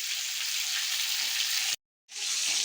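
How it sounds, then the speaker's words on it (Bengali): Chini pointed gourd sizzles in oil in a wok, an even hissing fry that drops out briefly near the end before resuming. "এবার পটল চিনি পটলটা আমি কড়াইতে দিয়ে দিই"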